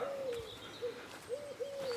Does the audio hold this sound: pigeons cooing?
yes